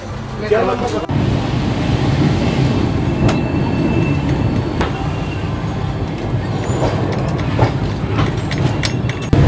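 The 19414 KOAA-ADI Express pulls out of Dhanbad, heard from inside the coach as a steady rumble with rhythmic wheel clicks and occasional squeals, voices talking under the running noise.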